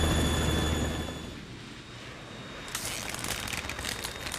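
Harrier jet from the video game Metal Gear Solid 2, a steady roaring jet engine drone that dips slightly midway, then swells back with crackling, gritty texture toward the end, loud and continuous with no talk.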